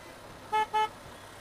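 Two quick car horn toots sound in succession over faint background traffic on a busy bridge over the Krishna canal.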